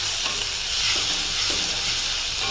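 Crushed garlic stirred and fried in hot oil for a dried-fish curry gives a loud, steady sizzle close by, with soft scraping strokes of stirring running underneath.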